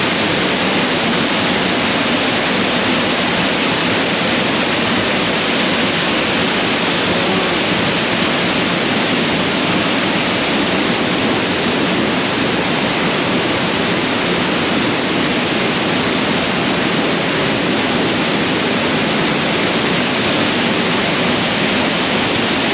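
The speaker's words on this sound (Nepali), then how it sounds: "पानी कस्तो ठुलो छ हेर्नुहोस् न झर्ना बगिरहेछ" A rushing waterfall-fed stream pours steadily in an outdoor hunting setting, a loud, dense, unbroken roar of water that stays even throughout, with no voices heard.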